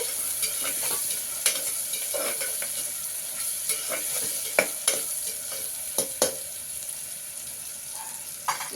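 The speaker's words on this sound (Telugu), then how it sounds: "బాగా వేగాలండి" Ingredients for mutton kurma frying in a pan give a steady sizzle, with repeated stirring and scraping clinks throughout and no talk.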